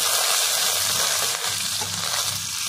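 Chopped onions dropped into hot oil with a bay leaf in a pan for a Bengali vegetarian curry, giving a loud, steady, close hiss of frying that holds for the whole stretch with no voices.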